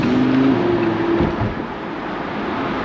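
A Lamborghini engine accelerating, heard from inside the car as a loud, steady roar with a rising whine early on that then settles into a dense, sustained drone.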